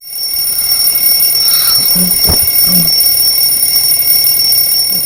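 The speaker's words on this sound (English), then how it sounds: "Morning, 5:30, the alarm bell rings." A morning alarm clock rings steadily with a high, sustained electronic tone, loud and alone, with a few faint incidental knocks partway through.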